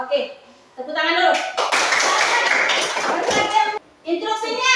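Children in a classroom coding lesson clap their hands together in a dense, rapid burst lasting a few seconds, with a teacher's voice speaking before and after the clapping.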